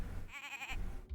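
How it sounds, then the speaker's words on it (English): A goat in the video game Insurmountable gives one short wavering bleat, clear and fairly close, over a low background hum. "Another goat"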